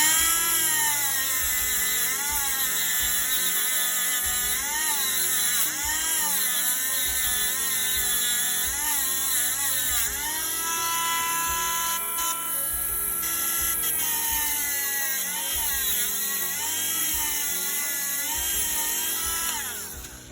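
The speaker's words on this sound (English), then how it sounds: "using a high grit of these radial wheels to clean up those little bumps and whatnot of the soft solder" A high-grit radial bristle wheel on a rotary tool polishing soft solder seams on a handmade bracelet, giving a continuous high whine whose pitch rises and falls with the pressure, close and steady throughout.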